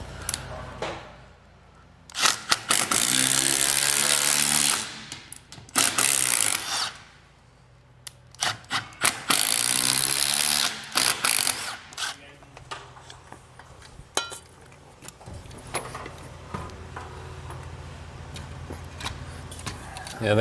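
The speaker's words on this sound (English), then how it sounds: "So it gives me room to get back there with a ratchet and a wrench." A hand ratchet clicks in bursts while bolts are tightened for a hose reel in a garage build, with rapid close pawl clicks and short pauses between runs, plus some rubbing and handling noise.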